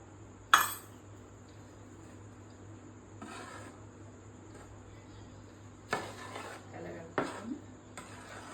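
A spoon works spices, mustard powder, turmeric and chili with oil into ginger pickle in a pot, giving sparse scraping clinks and knocks against the vessel over a faint steady hum.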